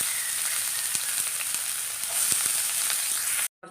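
Onion sizzles steadily in hot coconut oil with ginger for a prawn and vegetable curry, a loud, dense, continuous frying hiss with faint stirring ticks that cuts off abruptly near the end.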